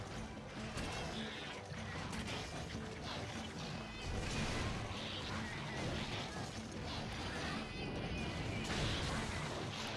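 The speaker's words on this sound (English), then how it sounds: "so I can use Wyvern Fire in peace" A gunlance's Wyvern Fire blast in Monster Hunter Generations: a thick, rumbling roar of grinding mechanism and explosive force that swells and stays loud and dense throughout, with a voice faintly present underneath.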